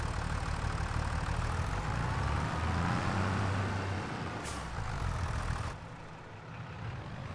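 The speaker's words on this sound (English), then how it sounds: "I have to move the other tractor out the way." Engine rumble of a tractor being moved in the game Farming Simulator 25, a steady idling drone with hissy air-brake-like noise, loud and continuous, dropping slightly toward the end.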